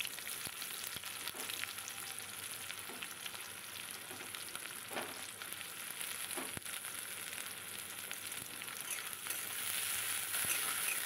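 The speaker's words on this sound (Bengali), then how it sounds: "এবার কড়াইতে তেল দিয়েছি। প্রথমে আমি পেঁয়াজগুলো দিয়ে দিলাম।" Chopped onions fry in oil in a wok, giving a steady, even sizzle throughout with occasional faint stirring clicks and no voices.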